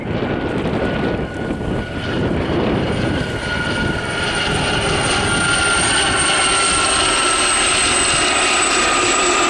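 A pair of Gazelle helicopters arrives at a 2019 seaside airshow display in Southport, rotor and turbine noise loud and steady throughout, with a constant high whine over a broad rumbling wash as they fly in close.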